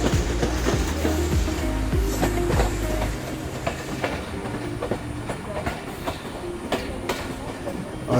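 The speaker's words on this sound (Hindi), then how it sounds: "हमारी पाकिस्तान एक्सप्रेस जिसमें हम सवार हैं आज, और रावलपिंडी से गुजर खान के लिए जा रहे हैं" Heard from on board, the Pakistan Express rolls from Rawalpindi toward Gujar Khan with a steady rumble and a rhythmic clickety-clack of wheels over rail joints, loud and continuous throughout.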